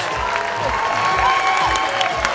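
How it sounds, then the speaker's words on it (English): Applause and some cheering from the audience at a men's physique bodybuilding show. Loud, steady clapping runs under a booming amplified hall ambience with low thumping throughout. "Audience members, can we have a round of applause?"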